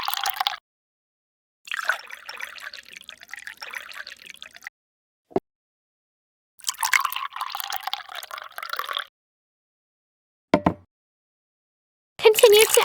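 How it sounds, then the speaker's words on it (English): Water is poured into a miniature pot of rice in a tiny kitchen, several separate short bursts of trickling and splashing with quiet gaps and a couple of faint single drips between. "Add water."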